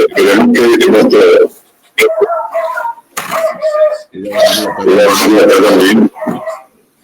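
Dogs barking in bursts that overlap and break off, loud and close, with gaps of quiet between them.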